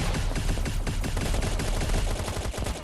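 Rapid gunfire from a gun in the survival game Last Island of Survival, a dense loud burst of shots fired nonstop at close range.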